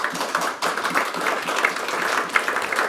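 Gala dinner audience clapping during a ministerial keynote speech, a steady sustained patter of many hands at moderate loudness with no talking.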